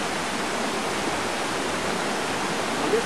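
A river in the Daintree Rainforest of Queensland flows steadily, a broad, even rushing wash that holds level throughout with no voices.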